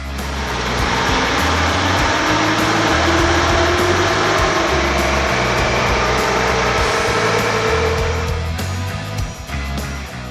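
Honda Africa Twin motorcycle with a DCT gearbox running hard on a rolling road at a festival, its engine a loud, sustained whine that climbs steadily in pitch and then drops away near the end.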